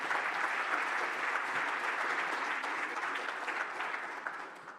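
Steady, dense applause from a conference audience fills the space, sustained throughout and tapering slightly near the end, with no voices over it.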